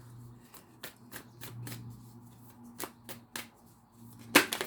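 Tarot cards are shuffled by hand at close range in a series of crisp riffling bursts, with a quiet tonal hum underneath and no talking.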